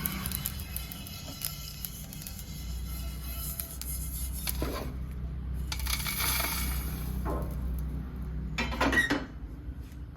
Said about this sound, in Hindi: जीरा जो है वो अच्छे से चटपट हो रहा है और राई भी फूट रही है